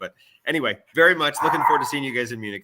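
A dog keeps barking and whimpering nearby in a home setting, its yips overlapping a man's ongoing speech.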